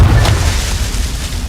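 Confringo blasting spell detonating in the Hogwarts Legacy video game: a loud, close boom with a strong low-end thump at the start, then rumbling decay over about a second and a half, no voices.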